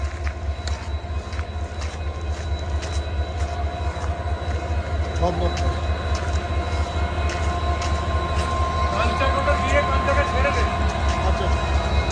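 A train rolls into a station on a route toward Guwahati. It makes a steady, close rumble with a rhythmic low thud of wheels and faint higher squeals and rattles that build slightly toward the end.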